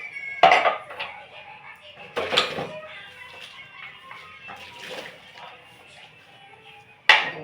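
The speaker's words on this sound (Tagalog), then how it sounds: "Hugas ng plato." Plates and cutlery clatter during dishwashing, with several sharp clinks and knocks at irregular intervals, close and fairly loud, with quieter rattles between.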